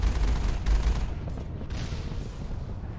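A vehicle cannon in the video game Mass Effect fires at an enemy turret, a dense roll of heavy booming blasts with low rumble, strongest at first and then settling into a continuous rattling barrage.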